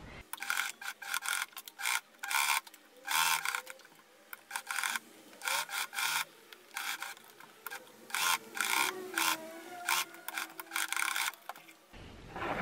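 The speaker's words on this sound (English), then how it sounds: "now I'm going to sew here in the seam allowance at the bottom, back up." A sewing machine stitches along the bottom seam allowance of a handbag and backtacks, running in repeated short bursts with brief pauses between them, close up and fairly loud, with no talking.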